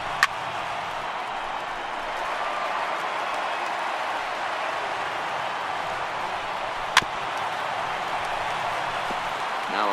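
A large stadium crowd of over 31,000 in MLB The Show 18 rises to its feet, a steady dense roar of cheering and murmur held throughout at moderate level, with a couple of sharp knocks.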